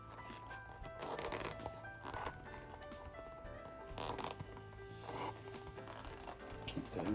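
A hand-pulled strap cutter slices a heavy leather strap for a belt, giving soft repeated scraping rasps in several bursts, quiet and close, with no talking.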